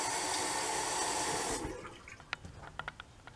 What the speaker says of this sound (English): I'm going to rinse the razor and then rinse the blade.